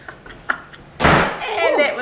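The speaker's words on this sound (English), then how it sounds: "that was the back door closing because this is windy Wellington" A back door slams shut in strong wind with a single loud, close thud that rings on briefly, after faint earlier knocks and tapping.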